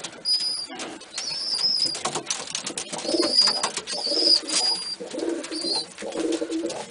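Domestic pigeons cooing in a loft, low soft coos repeating through the scene, close by, with high chirping bird calls and occasional rustling or wing sounds around them.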